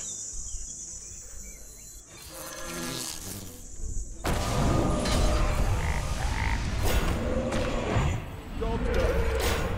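A frog croak from the Hex spell in Hearthstone, set among a busy, chirping game soundscape with speech mixed in.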